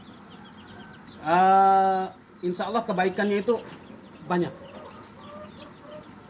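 Chickens cluck and squawk at a chicken farm run by a foundation, a loud drawn-out call followed by a burst of several close clucks, with a person talking over them.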